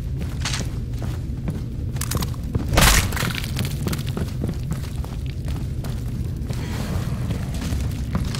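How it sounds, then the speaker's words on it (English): A grenade explodes in the zombie shooter game No More Room in Hell, one short loud boom amid ongoing gameplay clatter, footsteps and scattered impacts. "Watch out! Grenade!"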